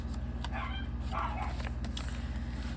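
Dogs bark and yip somewhere in the background over a steady low hum, a few short sharp calls scattered through the moment.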